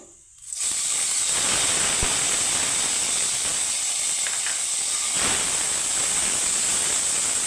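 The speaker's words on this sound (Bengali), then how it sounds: "এভাবেই আমি লাল করে একটু ভেজে নেব পনিরটাকে" Paneer cubes frying in hot oil until reddened, a loud continuous hiss that starts abruptly and holds steady throughout, with a couple of faint clicks and no voices.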